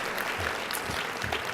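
A banquet audience applauds in a steady, dense patter of many hands clapping, moderately loud throughout the short stretch, with faint voices mixed in.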